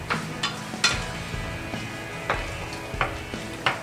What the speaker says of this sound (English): We wanna mix together our barbecue sauce with our ground venison, get it nice and mixed up so it's fully sauced.